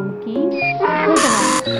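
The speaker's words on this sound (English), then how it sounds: "cat, billi" A cat meows in a short burst of harmonic, gliding cries, loud and close, with no talk over it.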